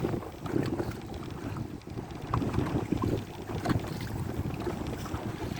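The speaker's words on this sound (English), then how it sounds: "We've got some strong wind." Strong wind buffets the microphone aboard a sailing boat during a race, a steady loud rumbling roar with gusty surges and water noise, and no talking.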